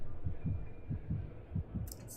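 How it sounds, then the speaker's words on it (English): A heartbeat thumps in the Honkai: Star Rail video game, a steady low double-beat pulse repeating about three times over two seconds, close and muffled with no talk. "still hear the heartbeat going."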